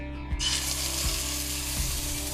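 Jerk sauce sizzling steadily in a hot pan, a continuous bright frying hiss with a few low knocks as the pan or utensil shifts, close and alone without voices.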